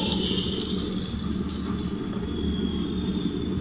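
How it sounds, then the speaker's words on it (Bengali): Water pours steadily into a cooking pot while rice is being prepared, a continuous splashing gush held at an even level from start to finish with no talking. "এই যে এটার মধ্যে এখন জল দিয়ে দিব।"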